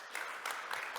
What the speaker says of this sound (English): Please give a warm round of applause to Andreas.